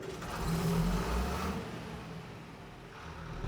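A tractor engine, model 8650, in Farming Simulator 25 revs with a rough, mid-pitched drone that swells in the first second and a half, then settles into a quieter, steady hum.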